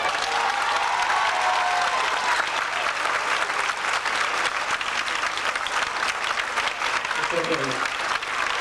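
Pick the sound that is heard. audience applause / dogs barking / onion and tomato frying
audience applause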